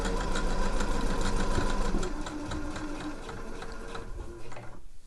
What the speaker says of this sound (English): so I'm just going to sew on the inside edge of that overlocked stitch